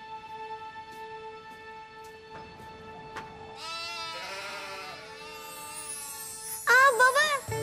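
Several sheep bleat nearby, wavering calls rising over a steady tonal hum, with a louder, shakier bleat toward the end.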